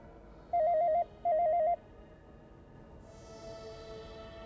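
Two short bursts of a warbling electronic telephone ring, one after the other, then a softer tonal hum.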